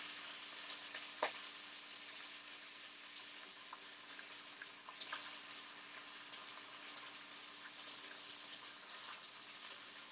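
Bacon frying in a pan gives a soft, continuous sizzle at low level, broken by a brief clatter early on and a few light clicks, with no voices.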